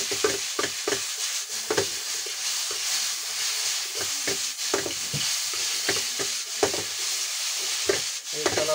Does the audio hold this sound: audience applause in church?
no